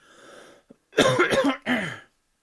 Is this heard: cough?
yes